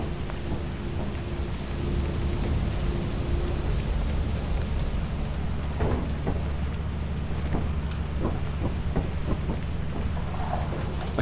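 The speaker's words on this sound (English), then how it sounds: "Oh, it's raining this time." Steady rain pours in a video game, with deep rumbling thunder underneath and scattered crackling drops, a continuous loud wash with no voices.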